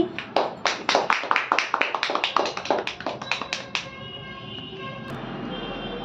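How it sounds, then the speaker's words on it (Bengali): Quick run of sharp claps follows a Bengali poem recitation at a family Rabindra Jayanti celebration at home, a brief burst from a few hands that fades into a faint hum. "হাততালি।"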